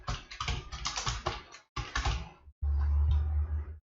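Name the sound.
typing a name on a computer keyboard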